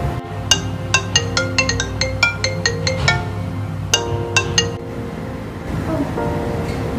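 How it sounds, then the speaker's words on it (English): A mobile phone rings with a melodic chime ringtone, bright pinging tones in quick runs that pause and then resume, loud and close over a low background hum, with no talking. "Oh, my phone's ringing."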